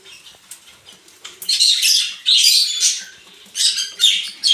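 Tame pet lovebirds squawk and chatter loudly and close by in repeated harsh bursts, with brief quieter gaps between them.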